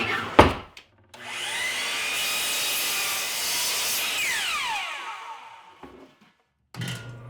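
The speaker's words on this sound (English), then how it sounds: "I'm going to get started by cutting this end off of the board" A power saw cuts the end off a wooden board, the blade spinning up into a sustained whining buzz through the wood for several seconds before winding down, framed by a few knocks of handling the board.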